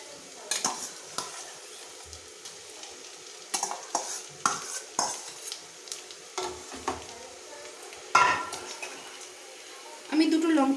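Smashed potato is stirred into deep-brown fried onions in a pan, with intermittent spoon scrapes and clinks over a low sizzle.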